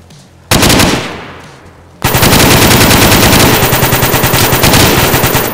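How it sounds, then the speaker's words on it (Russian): In the video game DayZ, one loud burst of gunfire fades out, then a long stretch of rapid automatic fire follows, close and very loud. "Кто стреляет?"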